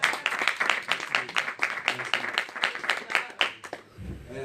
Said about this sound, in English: Give yourselves the greatest hand clap that you ever